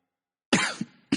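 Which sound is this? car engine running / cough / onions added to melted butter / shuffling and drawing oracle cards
cough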